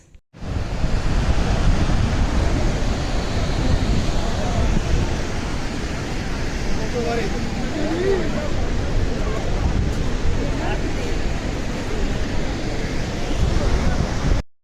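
Rushing, gurgling river water flowing near a solid stone bridge by Badrinath, a loud continuous roar of turbulent water that fills the whole stretch without pause.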